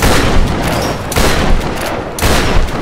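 Gunfire from the video game Tomb Raider (2013), three loud bursts of rapid shots, each cutting off abruptly before the next begins, close and heavy.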